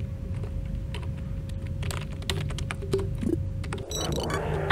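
Rapid clicking of keys on a computer keyboard, close and fairly quiet, in irregular bursts of taps during a Duskers gaming session, with no talking.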